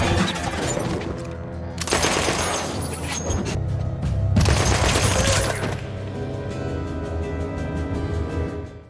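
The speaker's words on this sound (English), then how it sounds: "where they are ambushed with a machine gun" Machine gun fire erupts during an ambush in a dead-end street, from Peaky Blinders: loud, dense bursts of rapid shots with crashing impacts, two heavy volleys separated by a brief lull, then continuing rattling fire.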